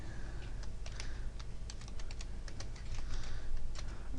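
A login script message being typed on a computer keyboard: a rapid, irregular stream of close key clicks over a steady background hum, continuing without pause and without speech.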